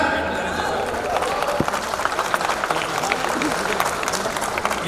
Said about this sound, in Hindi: ये तालियां वालियां सीटियां बीटियां बजाते रहो, पूरा माहौल बना रहे।